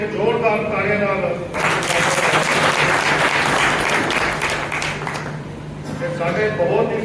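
Loud applause from an audience at a BJP political gathering in Rampura, with a burst of clapping that swells for several seconds between stretches of someone speaking over a PA system.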